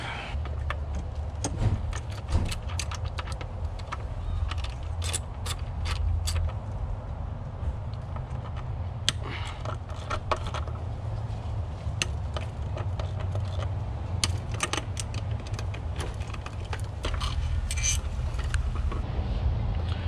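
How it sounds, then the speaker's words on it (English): Throttle body being unbolted and pulled from a Ford Mustang GT engine during a BBK 90mm upgrade, with repeated metallic clicks, tool clinks and rattles over a steady low hum in a garage, close and fairly loud. "now we got down to the throttle body, so let's get it off"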